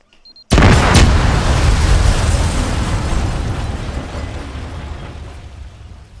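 A building blows up in the military shooter Arma 3, a sudden loud boom bursting in after a brief quiet moment and rolling into a long, dense rumble that slowly fades over several seconds, with no voices.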